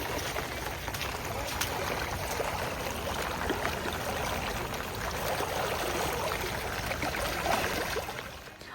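Rainwater flows steadily into a village pond in heavy rain, giving a continuous broadband rush and trickle, moderately faint and unbroken throughout.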